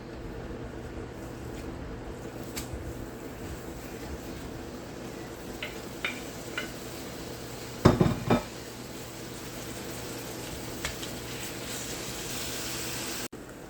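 Beef dropped into hot oil in a cooking pan, with a steady low hiss throughout and a short burst of clattering pan and utensil noise near the middle.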